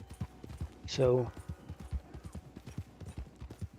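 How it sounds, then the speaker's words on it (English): Hooves of a Missouri Fox Trotter horse in a video game clip-clopping in a steady, even gait throughout, with someone talking over them and a short whinny-like tone near the start. "The horse even has a saddle on it. You just get on and ride off."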